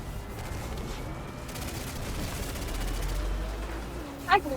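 Gunfire from the video game Destiny 2 rattles in a dense, continuous barrage of rapid shots that fills the whole stretch, ending with a brief louder burst.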